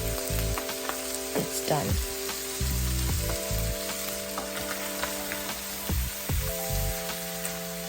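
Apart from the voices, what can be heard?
tomatoes and ground beef cooking in a pan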